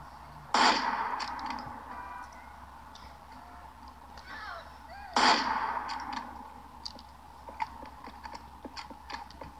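Two sharp gunshots in Grand Theft Auto 4, several seconds apart, each standing out loudly over a low, steady game background with faint ticking clicks.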